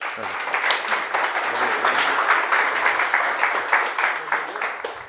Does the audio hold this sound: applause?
yes